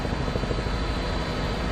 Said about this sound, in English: I have to widen out so our helicopter pilot, Mike Silman, can see exactly where we are as well.